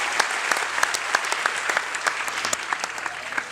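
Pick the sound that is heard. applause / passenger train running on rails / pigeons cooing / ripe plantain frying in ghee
applause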